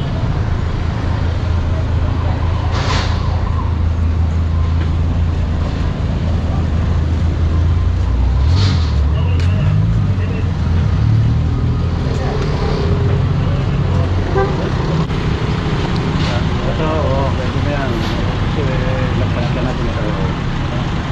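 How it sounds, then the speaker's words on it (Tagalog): Busy street traffic crowded with many motorcycles, steady loud engine drone close by with occasional horn toots and passing vehicles, voices talking faintly in the background throughout. "ang daming motorsiklo"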